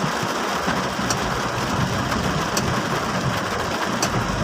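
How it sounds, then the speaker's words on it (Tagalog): Heavy rain pours steadily in a broad, dense hiss during an afternoon downpour under suddenly darkened skies, with faint low rumbles beneath and no voices. "biyaya ang dala niyang ulan na yan"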